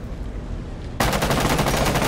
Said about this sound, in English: I guess I could just shoot it.